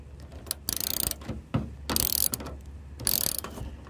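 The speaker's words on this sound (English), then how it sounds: "Now we are going to tighten this side screw back up." A ratchet tightens the side screw of a Nissan car door handle: bursts of rapid, close clicking repeat several times, separated by brief pauses and handling knocks, with no talking.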